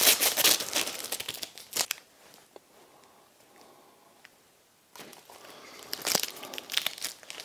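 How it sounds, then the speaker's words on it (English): Adhesive tape is peeled off a curved bookend, giving loud crinkling, tearing bursts at the start and again near the end, with a quieter stretch of faint rustling in between. "So I get all this tape off."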